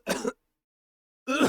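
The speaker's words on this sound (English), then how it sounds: "he's been coughing" A character in the video game The Great Ace Attorney gives two short, rough throat-clearing coughs, about a second apart. Both are close and distinct, with silence between them and no talking.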